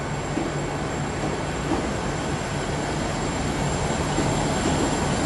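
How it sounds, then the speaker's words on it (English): A South Western Railway Class 159 diesel train pulls into Exeter St David's station, a steady broadband rumble with a continuous high whine, close and loud and holding level throughout, with no talking. "159 coming in here, heading for Holton."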